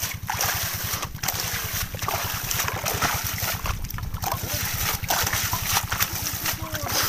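Water being splashed over pea plants in a field from a vessel, a steady splashing and trickling over a rumbling low drone, with scattered louder splashes.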